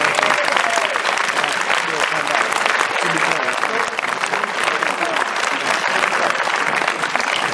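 Audience at a short-film festival awards night applauding, dense sustained clapping from a large crowd throughout.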